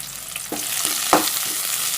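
Onions with neem and coriander leaves sauté in a pan for a chicken gravy, a steady sizzle with a couple of quick spatula scrapes and one sharper knock, close and fairly loud, no voices.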